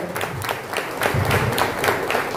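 Audience at a Marathi community gathering claps together in sustained, dense applause that stays steady and fairly loud throughout.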